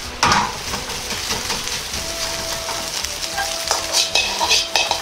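Ingredients stir-fried in a Chinese wok over a high flame, with a ladle working through the food: a close, steady sizzle broken by clattering ladle strokes and scrapes against the metal, with no talking.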